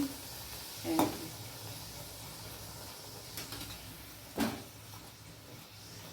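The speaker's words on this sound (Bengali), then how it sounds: "আমার তেল কড়া গরম হয়ে গেছে এই যে ভালো আমি খুন্তি দিয়েই একটা একটা করে করছি" Urad dal puris deep-frying in very hot oil, turned one at a time with a metal spatula, make a low steady hiss broken by two sharp clinks of the spatula against the pan. Quiet and close, no voices.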